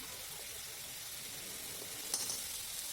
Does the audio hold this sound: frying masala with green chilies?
yes